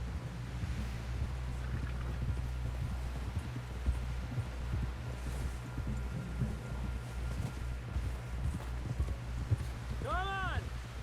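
Horse hooves clip-clopping steadily at a brisk gait in a video game, riding through wind and ambient outdoor noise, with a short chime-like effect near the end.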